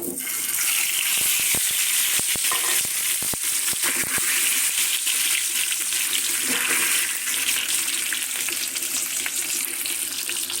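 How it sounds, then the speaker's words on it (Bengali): Eggs frying in hot oil in a home kitchen pan, a dense, steady crackling sizzle with scattered sharp pops, close and loud throughout without talk. "এখন আমি ডিম ভেজে নিব।"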